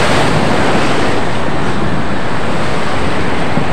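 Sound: strong sea waves on the shore

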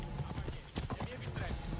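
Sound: horse hooves in video game

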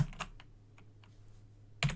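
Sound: typing on a computer keyboard

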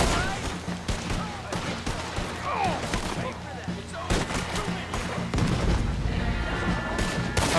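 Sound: cannon and gunfire in video game Red Dead Redemption 2

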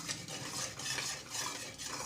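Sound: stirring ghee mixture in pan

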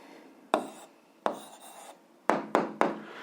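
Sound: pen writing down a math answer

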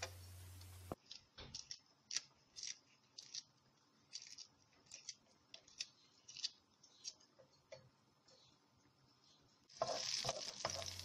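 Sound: chopped onion sizzling in olive oil in a pan

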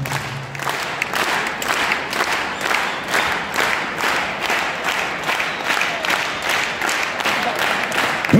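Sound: crowd applause at boxing event

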